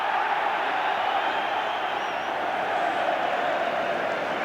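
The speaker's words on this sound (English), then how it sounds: "Cheers from the crowd" A football crowd at a 1990 Arsenal vs Liverpool match swells in a steady, continuous roar of cheering, heard from a distance and with no breaks.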